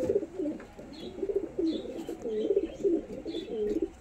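Pigeons kept at home coo in repeated soft, low, rolling phrases, close by and continuous, with faint chirps above.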